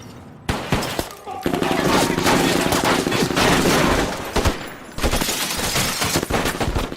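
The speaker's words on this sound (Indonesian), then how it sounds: "Baku tembak pun terjadi" A film shootout erupts at a Mexican drug lord's house: dense, rapid bursts of automatic gunfire and scattered single shots crackle loudly and almost without pause, with brief lulls between volleys.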